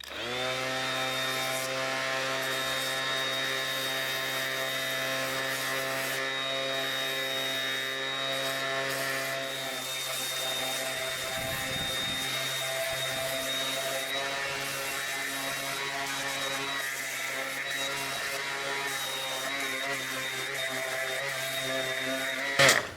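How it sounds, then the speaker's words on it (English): An electric palm sander works scrap wood with a steady, humming whir that runs for the whole stretch, briefly roughening midway as it rubs the piece, close and alone with no talk. "when you're using a palm sander or any type of electric sander, let the tool glide"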